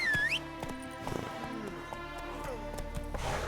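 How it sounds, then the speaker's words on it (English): In The Witcher 3 a horse whinnies briefly at the start, then its hooves clop in a steady rhythm under quiet game sounds and someone speaking. "Así me gusta, ese es mi caballo"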